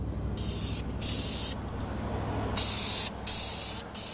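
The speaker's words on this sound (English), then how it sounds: "I'm going to go ahead and paint some more of the valve cover until this can runs out" An aerosol spray paint can hisses in several bursts of about a second each with short pauses between, close and loud, coating an engine valve cover.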